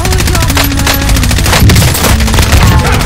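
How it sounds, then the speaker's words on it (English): Loud, dense Call of Duty gunfire with an M4A1 in the mix, rapid automatic bursts overlapping with other shots and impacts in a busy, close firefight. "Oh, I'm being shot at."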